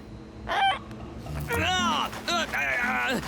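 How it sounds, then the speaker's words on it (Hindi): Cartoon seagull squawking at sea, several harsh, wavering bird cries in quick bursts, close and loud with a bed of background noise. "ऐसे समंदर के बीचों बीच एक सीगल कहां से आ गया दोस्त?"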